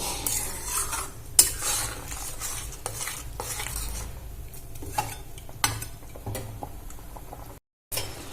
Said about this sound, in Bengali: ভালো করে মিশিয়ে নেব, তারপরে ঢাকা দিয়ে 2 মিনিট মতো হতে দেব।